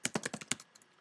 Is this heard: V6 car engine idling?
no